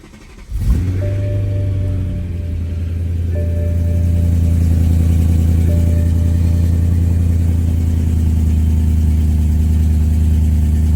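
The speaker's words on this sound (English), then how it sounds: "let me just fire it up real quick" A BMW E90 M3 engine cranks and catches on a cold start, then settles into a loud, steady, deep idle that rises slightly as it warms, heard up close.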